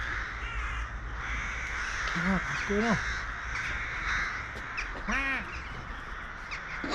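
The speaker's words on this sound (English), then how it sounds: "It's going off with all crows." Crows cawing near Charmouth, UK: several harsh caws in small groups over a steady outdoor background, with people talking over them.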